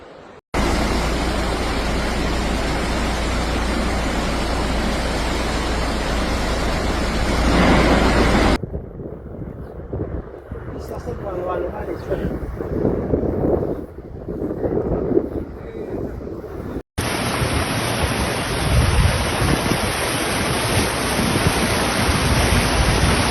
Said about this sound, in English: The river bursts its banks in Tarsia and Cosenza after incessant rains over the past few days.